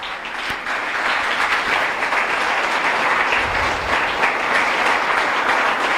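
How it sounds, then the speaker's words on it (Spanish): A church congregation applauds, a broad, sustained wash of many hands clapping at an even level for the whole stretch, with no voices standing out. "usted le da un aplauso al Señor"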